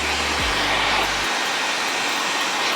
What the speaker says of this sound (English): Use a blow dryer.